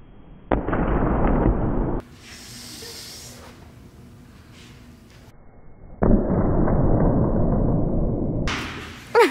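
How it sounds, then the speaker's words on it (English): A Super Wubble Bubble ball struck against a person's face, giving loud bursts of impact and rubbery rush near the start and again midway, with a quieter hissy stretch in between. "We're gonna try to explode it by hitting him in the face."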